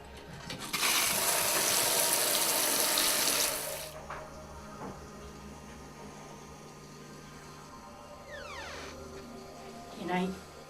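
A shower runs in a loud, rushing stream for about three seconds and then shuts off, leaving quieter room noise with a few faint knocks and sounds afterward.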